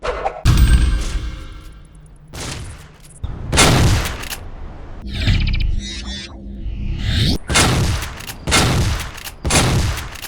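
A shotgun in a first-person shooter fires repeatedly, with about half a dozen loud, booming blasts at uneven intervals. Shorter mechanical clacks of handling and reloading fall between the shots.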